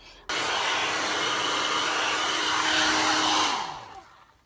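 A handheld hair dryer blow-drying natural hair roars steadily and loud for about three seconds, then its pitch sinks and it spins down as it is switched off.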